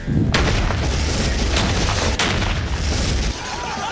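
A high-speed explosion goes off with a sharp crack, a loud broadband blast that rumbles on for a few seconds before cutting off, with smaller bursts within it.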